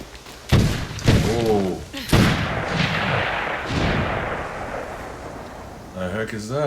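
Video game gunfire, several heavy booming shots with rumbling tails, mixed with overlapping voices talking near and loud.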